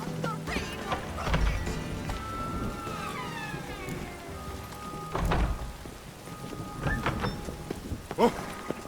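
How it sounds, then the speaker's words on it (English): Steady rain falls in the video game Witcher 3, a soft continuous hiss beneath occasional heavy thumps and scattered tonal game sounds. "Rain again."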